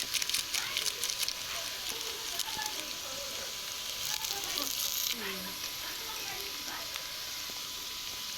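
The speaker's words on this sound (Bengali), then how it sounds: "আমি এখন ম্যাগি মশলাটা দিয়ে দিতেছি গরম তেলের উপরেই" Maggi masala is tipped onto onions already fried red in hot oil, bringing a continuous soft sizzle with scattered crackles and faint background sounds.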